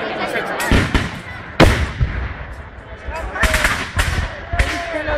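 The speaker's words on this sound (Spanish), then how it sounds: "A esto les van a tirar otro cañonazo ahora" Loud booming blasts at a Battle of Vitoria reenactment in La Puebla de Arganzón, cannon and gunfire cracking out several times in sharp irregular bursts amid crowd voices and chatter.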